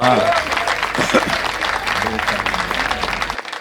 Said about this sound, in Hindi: यदि आप लोग तालियां बजा के मुझे आदेशित कर दें तो मैं शुरू कर दूं।